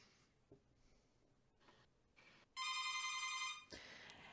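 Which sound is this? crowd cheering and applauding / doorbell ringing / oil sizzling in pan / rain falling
doorbell ringing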